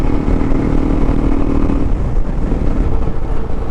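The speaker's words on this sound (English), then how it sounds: "I just want to hear the rumble of this exhaust. It sounds much more throatier than the stock exhaust for sure." A KTM 390 Adventure motorcycle fitted with a modified aftermarket exhaust rumbles loudly up close, a deep throaty burble that stays strong and continuous for a few seconds.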